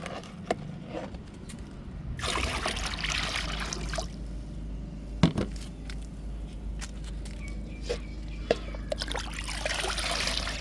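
Liquid trickles and pours into water, a steady splashing stream with a few brief bursts, close by and alone, mixing a mustard-solution organic fertilizer.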